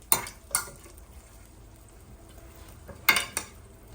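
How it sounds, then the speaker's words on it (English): Cooked meatballs dropped into a pot on low heat, a few clattering knocks of food and utensil against the pot followed by a soft sizzle and quiet stirring, close and without talk. "I'm going to add it to this pot."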